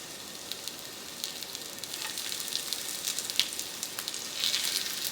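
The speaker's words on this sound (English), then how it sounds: "the oil is nice and hot, so I'm gonna go ahead and start frying my pork." Pork medallions frying in hot oil in a pan, a steady close sizzle with scattered crackles and pops throughout, no voices over it.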